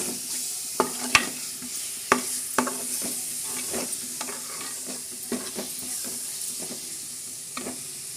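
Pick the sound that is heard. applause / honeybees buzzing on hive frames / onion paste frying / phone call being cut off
onion paste frying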